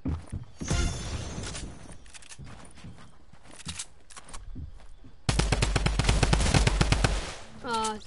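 Video game gunfire in squad play, short bursts of rapid automatic shots spread across the clip, with a long loud volley near the end and players talking faintly between bursts.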